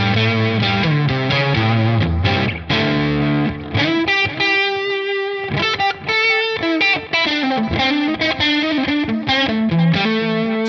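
A Stratocaster electric guitar on its middle pickup position, played softly through a high-gain ToneX amp model with a Creamback cabinet, rings out as lightly driven chords and single notes, mostly clean with a touch of grit, steady and upfront with no talk.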